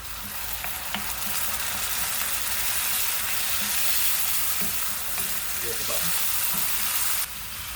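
Tomatoes frying in a pan for a plantain dish, a steady close sizzle throughout with occasional stirring scrapes and light clinks, no talking.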